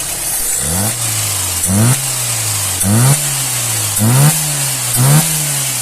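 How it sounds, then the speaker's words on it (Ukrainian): A car engine fed by a tested Solex carburetor idles and is blipped five times in a steady rhythm, each rev rising sharply and falling back to a low, loud idle, with no voices. "Карбюратор цей перевірений, ось так він працює"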